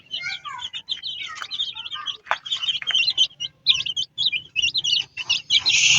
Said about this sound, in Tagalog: Bali 9 na mga sisiw. Ito yung sisiw ng ating puti.